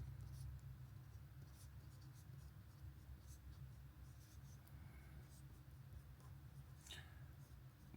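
Pen or pencil scratches faintly and continuously while a formula is written out by hand, with soft intermittent strokes and a light click over a low room hum.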